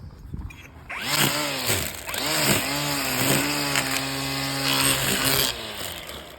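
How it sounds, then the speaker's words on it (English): An Ego 56-volt battery string trimmer cuts grass up close, its loud high whine rising and dipping several times as the line bites in, then holding a steady pitch before cutting off. "Let's take it for a spin. Watch it cut some grass."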